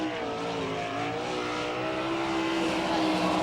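An NCRA race car laps the speedway at Wichita, Kansas, its engine a loud, sustained roar that holds steady and swells slightly as it runs.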